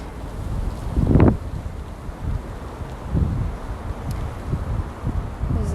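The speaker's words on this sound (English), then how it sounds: "There's wind. Pause for wind. Hold for wind." Wind buffets an outdoor microphone in low rumbling gusts, with a stronger burst early on and further irregular thumps, moderately loud throughout with no talking.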